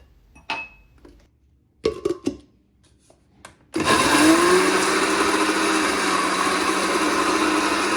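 An electric blender whirs loudly and steadily, mixing one banana into beaten egg and sugar for a quick cake; a few soft kitchen clicks and taps come first, then the motor starts abruptly and runs continuously up close.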